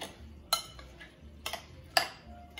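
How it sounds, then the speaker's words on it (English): Pico de gallo salsa with lime and serrano being stirred by hand: a handful of light clinks and scrapes of a utensil against a bowl, spaced irregularly and fairly close, over quiet room background. "you squeeze the lime, the hello the uh, the, the serrano, you mix this thoroughly"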